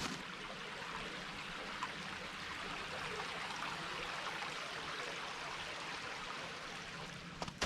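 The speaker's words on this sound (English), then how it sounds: "nothing wrong with a little creek action" A creek flows along a hiking trail by the Rock River at Castle Rock State Park, giving a steady, broad wash of running water with a faint trickling texture and no voices.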